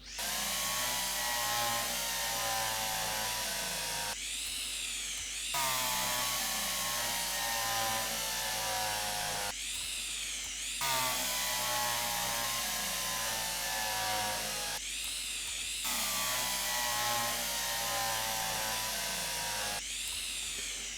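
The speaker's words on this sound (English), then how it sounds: "I'm just going to go ahead and just use the screwdriver on this" A powered screwdriver drives fasteners into a mount in the Derail Valley train game, whirring steadily in long runs separated by short pauses, with four distinct bursts.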